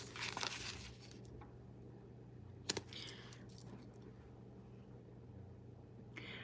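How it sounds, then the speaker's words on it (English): Tarot cards shuffled by hand, heard as faint papery riffles and rustles with a denser burst at the start and a brief sharp flurry midway, quiet and close with no talking. "Y'all watched me shuffle."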